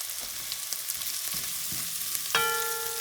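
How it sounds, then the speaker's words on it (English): Tomato sauce hits a hot pot of browning salchichon sausage for Puerto Rican sausage soup, giving a steady close sizzle with a sharp burst and a brief ringing tone as it goes in. "And now comes your tomato sauce"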